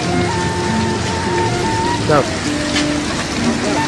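Steady rain pours down in an outdoor spot in Indonesia, a loud constant hiss with a person's brief voice and chirpy sounds over it.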